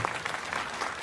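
An audience at a Meghwal community gathering in Rajgarh claps steadily for a committee, a dense, even wash of applause with no voices standing out.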